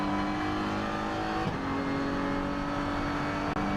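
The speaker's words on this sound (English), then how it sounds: "Stippler jumps his Audi into that fast double apex right-hander before they go over this crest, through this flat-out left-hander" An Audi race car at full power during the Nürburgring 24-hour race, a loud continuous engine roar with a brief shift in pitch partway through, then a steady high drone.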